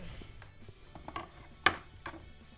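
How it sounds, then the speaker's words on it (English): An ice cream maker packed with layers of ice runs its motor, making a faint mechanical churning broken by irregular clicks and ratcheting knocks, with one sharper clack. No one speaks. "You put the motor on"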